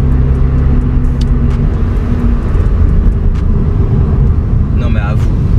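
Volkswagen Golf 7 TCR hot hatch idling and revving at sunset, its engine and exhaust crackling and popping loudly and close throughout, with people talking over it.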